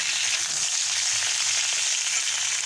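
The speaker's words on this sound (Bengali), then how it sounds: "ফুলকপিটা ভেজে ফিরে আসছি" Cauliflower frying in a pan of hot oil, giving a steady, close, even sizzle that continues without a break.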